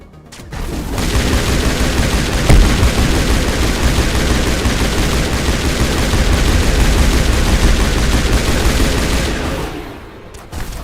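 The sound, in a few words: gunfire in video game Mass Effect 1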